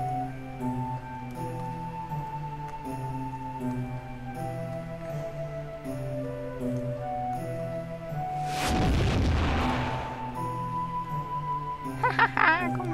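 In Ink Travellers, a bomb carried by a small mouse blows up against a stone. The burst comes as a single loud, broad boom in the middle, set over a steady tonal game melody, with a few short pops following.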